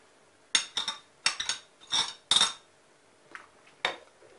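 A metal spoon scrapes and clinks against a pot of chicken vermicelli soup in several quick bursts, with short pauses between strokes and softer taps toward the end.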